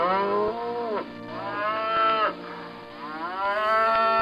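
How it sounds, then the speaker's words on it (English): A cow moos in several long, loud, drawn-out calls close to the listener, each rising and falling in pitch, with no other sounds around them. "This is a cow."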